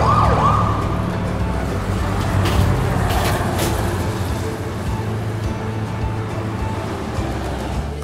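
An ambulance siren in an animated insurance advertisement wails continuously at a loud, steady level, with a brief upward sweep at the start and broadband noise behind it.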